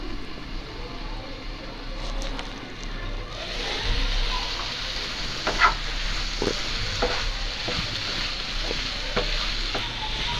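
Vegetables cook under a lid in a pan for masala Maggi noodles, a muffled continuous sizzle that grows louder partway through, with occasional soft clicks and bumps.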